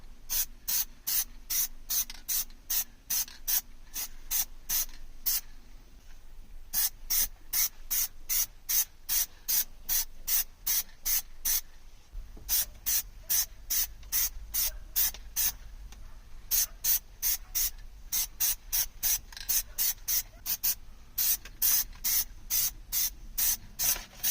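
Plasti Dip sprays in quick, regular hissing puffs onto a 2014 Toyota Tundra steering wheel emblem, a long run of short aerosol bursts close to the mic with brief pauses between groups and no speech.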